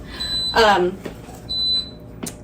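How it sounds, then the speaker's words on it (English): A few short electronic beeps from a yogurt maker, high and clear, with a person speaking briefly over the first. "now it's beeping at me and telling me to add it"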